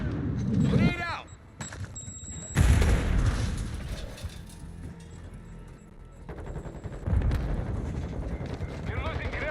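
A grenade blast and rolling gunfire in a military shooter video game, loud and sustained with booming impacts, mixed under radio-style voice callouts.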